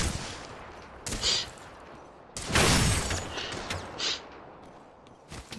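Gunfire in a battle royale video game comes in several sharp bursts, a short one early, a longer loud volley in the middle and another brief burst after, separated by quieter game ambience.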